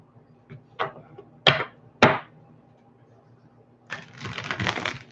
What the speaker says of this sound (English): And one more shuffle should do it